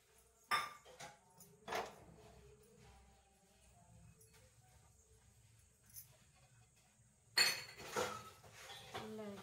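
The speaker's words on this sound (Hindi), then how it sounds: "रात के बर्तन धो रही है" Dishes washed by hand in a home kitchen at night: scattered clinks and clatters of pots, plates and cutlery, with quieter stretches between bursts and faint background sounds.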